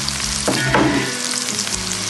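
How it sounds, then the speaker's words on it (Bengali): Hot oil sizzles loudly in a pan of spiced chicken curry paste, with a brief surge of hissing spatter midway as a little water goes in, then the frying settles back to a steady sizzle. "তেলটা ফুটছে এই জন্য সামান্য একটু পানি অ্যাড করলাম"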